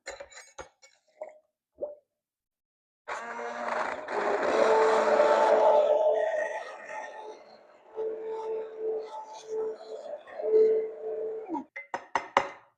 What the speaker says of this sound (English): now we're going to just put the immersion blender in there.